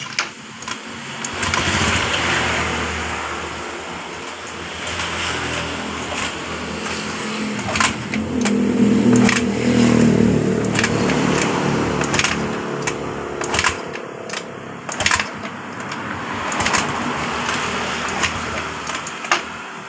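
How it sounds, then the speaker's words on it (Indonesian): Honda Beat Pop scooter with a weak battery being kick-started repeatedly without catching, a series of close mechanical thumps and clattering kicks with brief sputters that die away, spread over about twenty seconds. "Jadi kita sudah engkol beberapa kali, motor ini juga belum bisa hidup."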